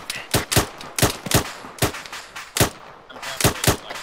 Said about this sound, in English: Charlie, make sure you put down rapid fire.